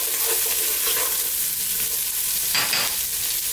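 Celery and carrots stir-fry in a pan for vegan vegetable noodles, a steady bright sizzle with scraping stirs and a louder burst of frying crackle partway through.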